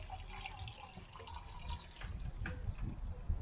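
Water is poured into a metal camping cookset cup, a steady trickling and splashing stream close by that grows slightly fuller toward the end.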